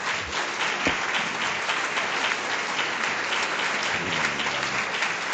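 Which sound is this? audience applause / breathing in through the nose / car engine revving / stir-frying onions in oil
audience applause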